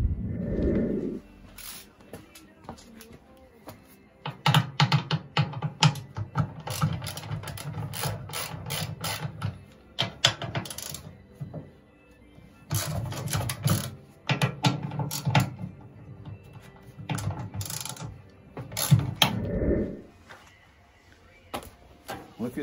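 Ratcheting and clanking from loosening the side bolts on a VW T5 Transporter seat bracket, with bursts of metallic clicks and rattles separated by short pauses, close and fairly loud.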